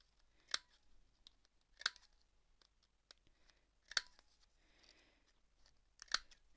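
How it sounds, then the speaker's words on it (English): Scissors snip the corners off a small paper craft card, giving four sharp, close snips spaced about a second and a half to two seconds apart in a quiet room. "I'm just going to snip the corners of this one as well."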